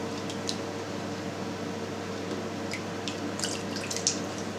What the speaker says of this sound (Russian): Сливаем только сывороточку.